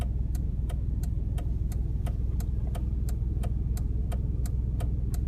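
A Chevrolet Blazer's turn signal ticks in an even, steady rhythm about three times every two seconds, close and clear over the low, constant hum of the engine idling.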